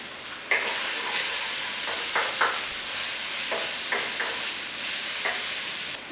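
Flour mixture for a British rag pudding sizzling in a hot pan, a steady bright hiss running throughout with a few soft stirring scrapes and clinks, close and fairly loud.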